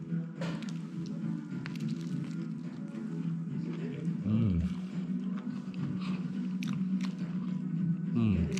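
Someone chewing a large, cheesy fish burger at a luxury villa in Landour, soft crunching and squishy bites close up, with speech heard at moments between mouthfuls.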